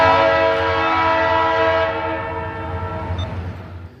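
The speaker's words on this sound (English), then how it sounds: "the leading GP38-2 having a gnarly sounding Leslie RS3L horn" A Leslie RS3L horn on a Norfolk Southern GP38-2 leading train NSL70 blares one long, loud, harsh multi-chime blast close by. It holds steady, then fades and wavers toward the end.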